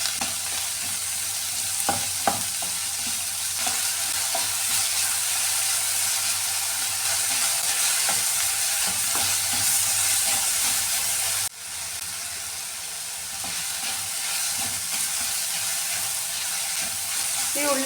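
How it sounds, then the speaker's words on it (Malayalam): Shallots sauté with salt in a pan for a Kerala-style onion theeyal, giving a steady, loud sizzle with intermittent stirring scrapes that continues almost unbroken throughout the clip. "ചെറിയുള്ളി ഇതിലിട്ട് നന്നായിട്ടൊന്ന് വഴറ്റിയെടുക്കാമേ."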